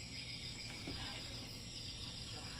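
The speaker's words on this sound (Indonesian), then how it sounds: "Cuman suara jangkrik." A steady, high-pitched chorus of crickets chirps without pause, soft and distant, filling an otherwise quiet night.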